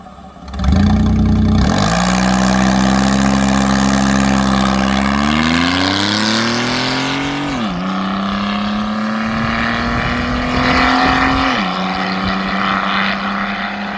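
A V6 Commodore drag car launches and accelerates hard on its first nitrous run, a loud droning engine note that climbs steadily with clear gear-change dips before pulling on into the distance.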